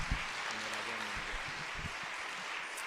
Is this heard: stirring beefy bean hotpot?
no